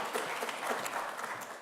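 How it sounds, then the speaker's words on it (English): Brief, soft audience applause at a conference opening, a dense blur of clapping lasting under two seconds at a moderate distance. "And a big round of applause, because without them, this would not be possible."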